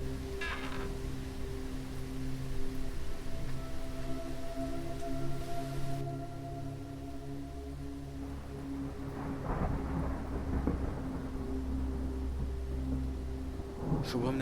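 Heavy rain with rolling thunder as a sound effect in an audio story, a steady downpour wash with several deep rumbles, a loud crack near the end, and faint voices beneath.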